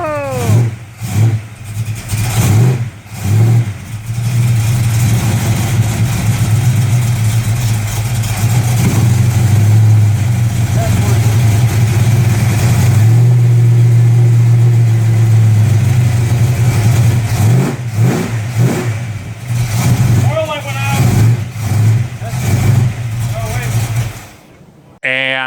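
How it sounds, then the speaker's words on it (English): A neglected Dodge Challenger's engine runs loud and steady, rising and falling through several revs over a sustained low rumble before cutting off near the end, with voices talking over it now and then. "we got the car running"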